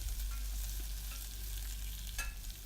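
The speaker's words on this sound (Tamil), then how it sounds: "பூண்டு வதங்கினதும் நம்ம கட் பண்ணி எடுத்து வச்சுருக்க வெங்காயத்தை சேர்த்துக்கலாம்" Garlic and onions fry in oil in a pan for Kumbakonam kadappa, making a steady close sizzle with a light scrape of stirring.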